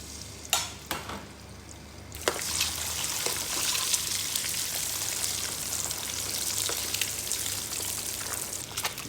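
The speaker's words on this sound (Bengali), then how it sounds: "এখন ডিম ফ্রাই করতে আসি।" Eggs frying in a pan for a Bangladeshi village-style egg and potato curry, a loud steady sizzle with a few sharp clinks of a utensil at the start.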